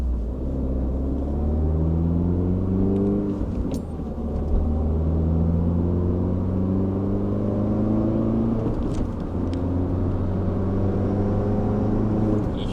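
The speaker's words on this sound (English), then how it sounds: "You hear the induction noises of that turbo" A turbocharged MINI Cooper R56 accelerates hard, its engine note climbing steadily through several gears with a steady whirring induction sound under the rising drone, heard from inside the car.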